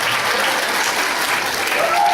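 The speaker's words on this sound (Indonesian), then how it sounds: "tepuk tangan untuk semuanya" A seminar audience gives steady, dense applause, loud and continuous, with a faint voice emerging near the end.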